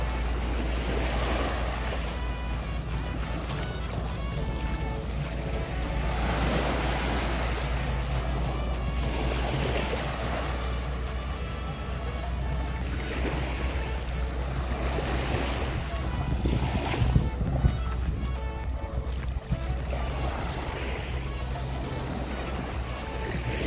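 Ocean surf at El Nido, Palawan, washes in continuously, rolling and crashing, while gusty wind rumbles against the microphone throughout.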